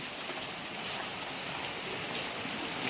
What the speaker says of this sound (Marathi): आता पावसामुळे ना पुरी वाट लागली